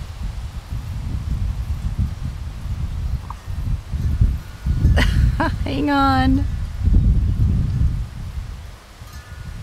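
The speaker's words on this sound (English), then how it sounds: "Look how windy it is." Wind blows through a garden with butterfly plants, giving a steady low rushing and leaf rustle with microphone buffeting throughout, while a person speaks briefly in the middle.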